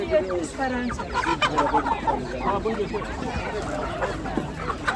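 Many chickens and roosters cluck and cackle close by at a poultry and bird market, in a busy, continuous chorus, with occasional louder squawks and people talking in the background.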